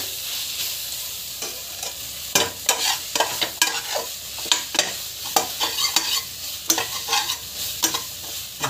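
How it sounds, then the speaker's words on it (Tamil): Spices and curd sizzle in a pan with a spoon scraping and stirring throughout, giving a run of quick, uneven clatters over a constant frying hiss, close and fairly loud. "நல்லா வதக்கிட்டுக்கோங்க"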